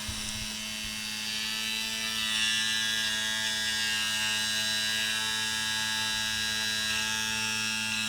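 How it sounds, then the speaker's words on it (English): A small battery-powered lash drying fan running on two AA batteries gives a steady, close electric whir with a constant motor hum throughout, faint and unbroken, with no talking. "The fan you can use to dry your lashes."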